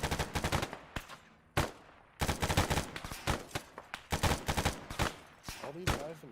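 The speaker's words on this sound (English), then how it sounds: "I've got eyes on an active HMG to the southeast of your friendly." Heavy machine gun fire in a military combat video game, loud close bursts of rapid shots broken by short pauses, with faint voices underneath.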